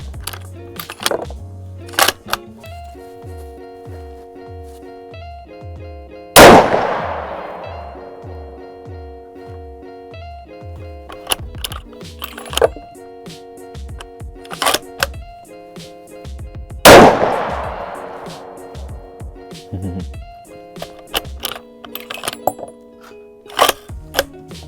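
Two loud 300 PRC magnum shots from a Ruger Precision Rifle on an outdoor range boom several seconds apart, each trailing off in a long echo. Light clicks and handling knocks fill the gaps between them.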